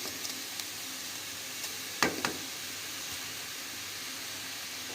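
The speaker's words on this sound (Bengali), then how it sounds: "আর তো এই কড়ার মধ্যে প্রথমে এই চিচিঙেগুলোকে আমরা দিয়ে দিচ্ছি।" Thin slices of snake gourd hit hot oil in a wok, giving a steady low sizzle with a sharp crackling burst midway and a few small pops and stirring clicks.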